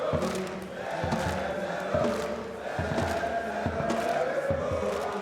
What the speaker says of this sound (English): Hey, at least the crowd's still in good spirits.